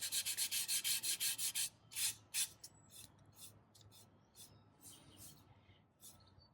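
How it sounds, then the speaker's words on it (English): Sandpaper rubbed lightly by hand over a wooden picture frame, a quick run of rhythmic rasping strokes followed by slower, scattered scrapes, close and fairly quiet. "I'm letting the sandpaper do the work for me."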